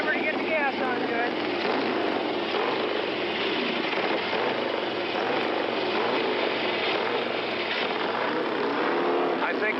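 Evel Knievel's motorcycle engine runs steadily before his 1976 Seattle jump, a continuous loud drone with a crowd or announcer under it, heard from a broadcast distance.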